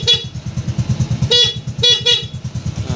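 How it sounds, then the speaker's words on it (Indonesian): A Honda Supra X125 motorcycle horn honks in several short bursts over a steady idling engine rumble, close and loud. "Klakson berfungsi dengan baik."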